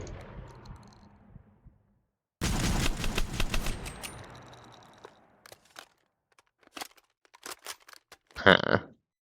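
Gunfire in Minecraft: a long rattling burst of rapid shots, then scattered single cracks and a final loud sharp blast, set against stretches of near silence.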